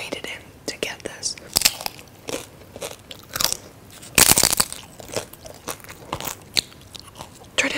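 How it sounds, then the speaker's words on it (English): Sharp crunching bites of crisp tortilla chips, close to the mic, repeated irregularly with chewing in between. "I'm going to eat this with chips"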